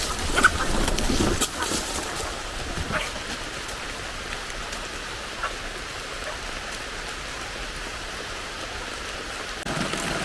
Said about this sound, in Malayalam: ചെറിയ മഴയാണെങ്കിലും ചെറിയതായിട്ട് വെള്ളം വീഴുന്നുണ്ട്.